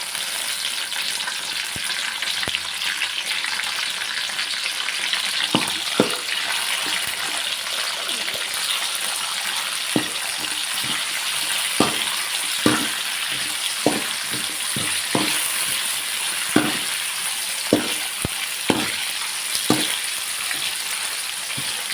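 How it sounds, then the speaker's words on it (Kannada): Tomatoes fry in oil in a pan with a steady close sizzle, broken by light scrapes and taps as they are stirred now and then; no talk. "ಟೊಮೊಟೊ ಚೆನ್ನಾಗಿ ಮೆತ್ತಗಾಗಬೇಕು ಆ ರೀತಿ ಇದನ್ನೇ ಎಣ್ಣೆಲೆ ಫ್ರೈ ಮಾಡ್ಕೊಳ್ಳೋಣ"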